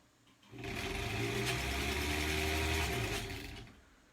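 Sewing machine stitching quilt pieces for a granny squares quilt, a steady close mechanical whir running for about three seconds with a smooth start and fade-out.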